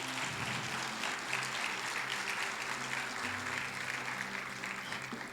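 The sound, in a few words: congregation applauding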